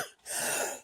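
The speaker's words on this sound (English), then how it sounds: "I hope that's just a lot of settling, that coughing." A single short, harsh cough bursts out close to the microphone, rough and throaty, with a brief breath before it.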